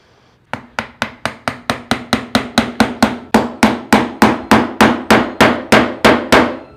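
A hammer strikes a wooden carving mallet being glued and assembled about twenty times in an even, steady rhythm. The blows are loud and close and the sound holds no talk.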